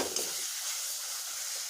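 Spiced masala frying in oil in a pan for dahi bhindi, a steady, close hiss and sizzle with a brief stir at the start.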